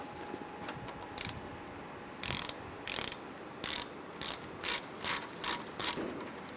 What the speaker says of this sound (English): there are two 15mm bolts you want to loosen and remove